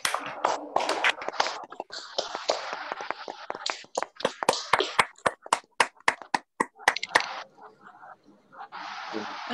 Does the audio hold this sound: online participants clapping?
yes